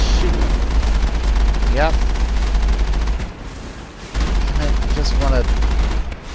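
Heavy gunfire from a military vehicle in the Mass Effect video game, a dense and constant roar of shots with a brief drop in the middle, while someone talks over it.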